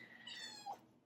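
A house cat lets out a single short, quiet meow, rising then falling, with a brief higher chirp near its end in an otherwise calm indoor room.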